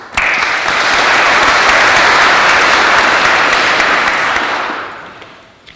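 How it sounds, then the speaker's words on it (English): Sustained, enthusiastic audience applause welcoming Layla Christison at a youth talk, dense clapping holding steady for several seconds before tapering off. "Everyone please give it up for Layla Christison."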